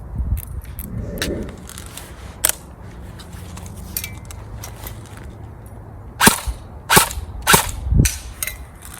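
An airsoft AK-style rifle firing 0.2 gram BBs on a fully charged 9.6 volt battery gives a few sharp, snappy shots near the end, after a stretch of quieter handling noise.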